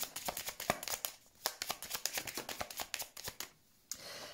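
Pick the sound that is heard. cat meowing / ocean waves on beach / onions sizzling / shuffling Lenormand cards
shuffling Lenormand cards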